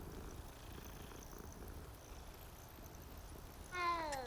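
Hogwarts Legacy cat purrs in a soft, steady low rumble under quiet background ambience, then lets out a brief rising meow at the end.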